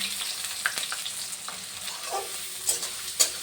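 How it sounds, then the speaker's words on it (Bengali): Chopped onions sizzle and crackle steadily in hot oil after fried spices, with occasional scraping stirs and small pops, fairly quiet and close. "এবার আমি পেঁয়াজ কুচিটা দিয়ে দিলাম।"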